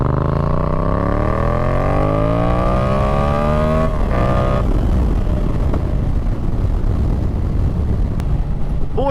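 A Yamaha MT07 motorcycle fitted with a Yoshimura R77 exhaust revs hard and close, pitch climbing steadily for several seconds before breaking into a loud, rough, crackling roar that holds to the end.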